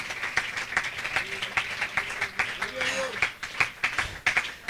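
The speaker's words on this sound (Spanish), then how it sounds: "Aplauda al Señor esta noche." A church congregation at an evening missionary service in Buga applauds in a steady, moderately loud wave of clapping, with voices and a sung or shouted line rising over it.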